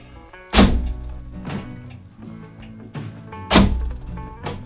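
Back door bolt on a Ford Transit Mk1 van thunks heavily several times, two loud close knocks standing out among lighter metallic clunks and rattles, with no talk.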